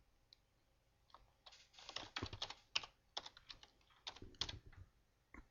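Close, quiet keystrokes on a computer keyboard as a short note is typed, coming in uneven bursts of clicks with brief pauses and no talking.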